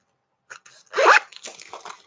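A zipper is drawn around a crushed-leather gunmetal Fossil zip-around wallet, a short rasping pull close to the microphone with light handling rustle before and after.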